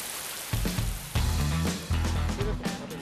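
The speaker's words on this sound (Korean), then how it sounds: "갑자기 작업 중에 예보에 없던 비가 내리면서 바빠진 작업자들." Sudden rain pattering on a campsite where a large dome tent is being set up, with heavy bursts of drumming hitting in a few uneven waves.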